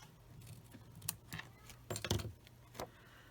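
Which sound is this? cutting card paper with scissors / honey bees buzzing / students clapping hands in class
cutting card paper with scissors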